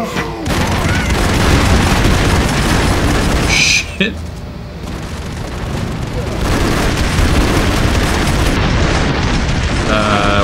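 Loud booming grenade explosions in the side-scrolling action game Broforce, a dense roar of blasts and debris that fills the clip, with voices talking over it.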